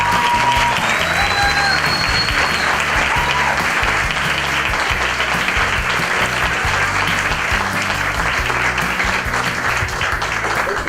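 Audience at a university event applauding Dr. Toto Viviani Rossi, loud dense clapping from a large crowd, sustained evenly for about ten seconds with faint voices underneath.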